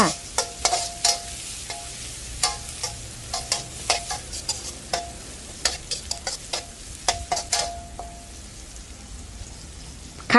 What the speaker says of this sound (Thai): ใส่พริกกับกระเทียม ลงไปผัดก่อน หรือว่าลงไปเจียวก่อนค่ะ